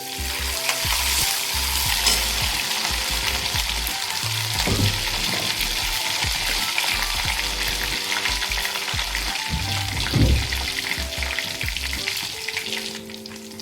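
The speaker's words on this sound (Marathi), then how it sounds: "तेल गरम झालेलं आहे जिरे टाकणार आहे हे का छान कडकड आले" Cumin seeds crackling and sizzling in hot oil for a stuffed capsicum dry vegetable dish, a steady dense fry with occasional louder pops and stirring clinks, close and continuous with no talking.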